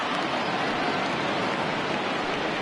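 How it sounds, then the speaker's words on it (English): Steady rain pours down throughout at a baseball game in a Mets video game, a dense, even hiss of drops on surfaces with no pauses and no voices. "we've mentioned the conditions aren't ideal with the rain coming down"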